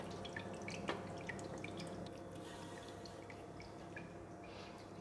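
Soft, quiet dripping of whey as cheese curds drain through a colander for an Amish melting cheese, scattered irregular drips over a faint steady background.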